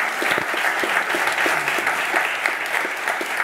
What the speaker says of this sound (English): Let's give one more round of applause to our Robbie and Jennifer and Dan